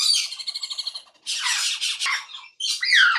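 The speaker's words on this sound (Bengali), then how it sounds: "এগুলো হচ্ছে আফ্রিকান গ্রে প্যারট, কঙ্গো প্রজাতির পাখি।" Several African grey parrots of the Congo type squawk nearby: a run of rapid, evenly spaced chirping calls, then harsher, drawn-out screeches in loud bursts with brief gaps between them.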